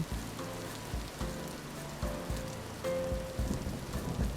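Rain falls steadily in a survival video game wilderness, a soft continuous patter on surfaces with recurring low thumps and faint tonal game sounds layered in, fairly quiet and without talk.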